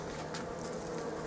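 Honey bees buzz steadily inside a Biostup hive during queen introduction with a four-hole diaphragm, a soft continuous close hum with no talking.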